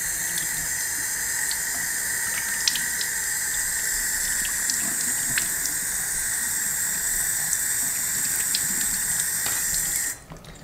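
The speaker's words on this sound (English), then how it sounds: "So I'm going to put some water on it." Warm water pours steadily from a tap onto dreadlocks in a constant, even hiss for about ten seconds before cutting off abruptly near the end, with no talk.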